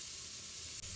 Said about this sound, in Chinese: 油热之后先下入一半蒜末翻炒